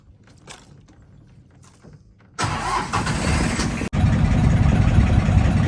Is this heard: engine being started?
yes